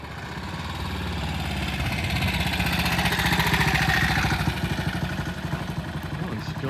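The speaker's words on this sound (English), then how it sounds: "I love the sound of a thumper." A BSA 441 Victor single-cylinder motorcycle idles nearby with a steady, rapid thumping pulse that swells slightly as it approaches, while people talk over it.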